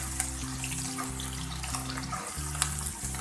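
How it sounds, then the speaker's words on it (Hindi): Onions frying in a pan for matar pulao, a continuous close sizzle and bubbling hiss with faint clicks, steady throughout with no talking, over a low background hum. "लाइट गोल्डन होने तक हम यहाँ पर प्याज को फ्राई करेंगे।"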